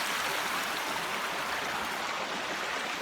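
A forest stream at the Tom's Run Shelter water source on the Appalachian Trail rushes steadily, a dense, unbroken wash of flowing water filling the scene with no voices.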